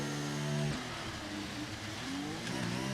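An F1 car at a race start in the F1 23 game, its engine revving hard through rising gear pitches with tyres spinning, loud and close with no talk over it.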